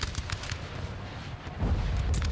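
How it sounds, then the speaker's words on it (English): Musket volleys from Mohawk warriors in Napoleon: Total War's War of 1812 setting, a dense rolling crackle of distant gunfire that swells louder and heavier near the end. "Volleys to the left. That's from the Mohawk warriors."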